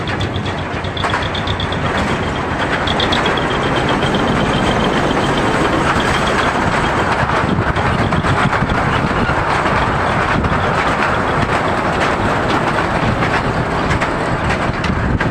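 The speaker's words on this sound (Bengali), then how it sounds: "ট্রেনটি আসছে।" A toy train on Elephanta Island, running on a causeway with sea on both sides, arrives and rolls past with a loud, steady rumble and rail clatter that holds throughout, with no talking.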